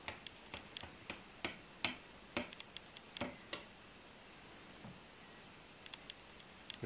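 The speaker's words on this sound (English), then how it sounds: "These can be held using a ratchet device." Ratchet on a wooden da Vinci-style catapult clicking as the timber sections are put under tension, a series of sharp, quiet ticks in uneven bursts with a pause midway, then a few more clicks.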